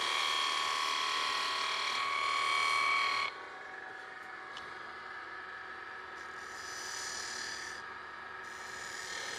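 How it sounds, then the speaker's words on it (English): A spindle gouge cuts away wood from the inside of a turned piece spinning on a lathe. A loud, steady buzzing scrape drops abruptly partway through, then continues quieter with shifting hiss as the tool works. "Now I'm going to use the spindle gouge to just cut away a little bit"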